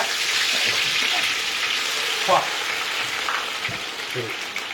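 Steady, loud sizzling of three piranha fish frying in hot oil, Kerala style, a continuous crackling hiss with a few faint clinks and stirs.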